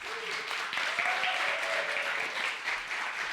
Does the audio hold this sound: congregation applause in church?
yes